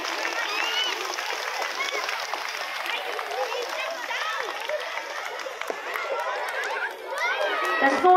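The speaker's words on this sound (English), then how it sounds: "Give a big round of applause for Essex High and the entire Essex High family." A large outdoor crowd applauds steadily during the flag hoisting at a junior school sports meet, sustained clapping mixed with children's shouts and chatter throughout.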